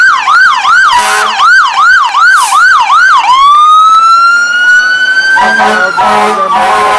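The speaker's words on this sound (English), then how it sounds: "Morrisonville Fire Department." A Morrisonville Fire Department truck siren blares loud and close during a parade: a rapid rising-falling yelp that shifts into a long, slowly sinking wail, with a horn-like blast near the end.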